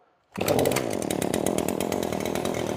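A Weedeater gas string trimmer engine fires up abruptly and runs steadily at a loud, high-revving buzz, close by and alone without talk.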